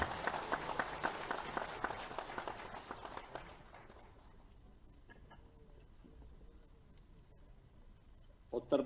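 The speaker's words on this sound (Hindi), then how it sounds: "आप सबकी जोरदार तालियों के अभिवादन के साथ" Audience applause greeting the chief minister at a teachers' appointment letter ceremony in a Lucknow mini stadium, loud dense clapping that fades out after a few seconds into quiet room tone.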